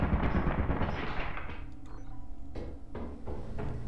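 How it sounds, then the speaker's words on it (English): A turret fires in the video game Lethal Company, a loud, close burst of rapid gunfire that fades into a few sharper, separate shots. "Sorry, that was a turret."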